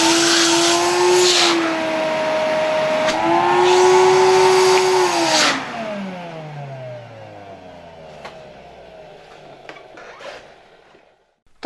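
An Electrolux Z325 vacuum cleaner from around 1977 runs with a loud, steady whine that rises once as it speeds up. It then shuts off and its pitch slides down as the motor winds down, leaving faint clicks at close range.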